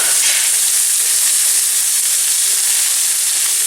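Prawns that were fried earlier go into a pan of sizzling spice masala, giving a loud, steady hissing fry that fills the whole moment with no voices.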